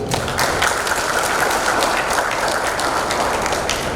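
Audience applause at a medical faculty ceremony for a young doctors' graduation and oath-taking, a dense, steady wash of clapping that holds evenly throughout.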